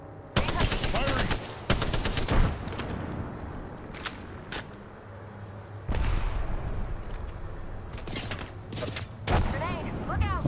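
Apex Legends match with bursts of automatic gunfire and sharp shots in several loud volleys, separated by brief lulls with faint background sound.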